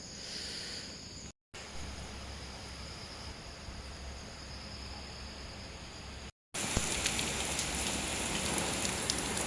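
Steady rain pours at a curved railway station platform on the Tuticorin–Mettupalayam route, a dense even hiss broken by two brief gaps, heavier and brighter in the final stretch.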